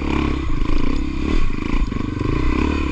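Dirt bike engine droning and revving continuously on a motocross-style dirt trail, loud and close throughout with slight pitch rises as the throttle changes.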